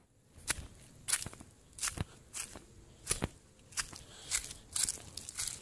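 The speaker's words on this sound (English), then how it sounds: "There's lots of crunchy leaves to step on." Footsteps crunch through dry leaves, a series of irregular crisp crackling steps, fairly quiet with short pauses between them.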